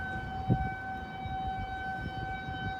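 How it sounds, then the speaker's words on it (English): Tornado sirens wail in a steady, sustained tone that sounds distant, with low rumbling background noise and a brief thump early on. "That is the sound of tornado sirens."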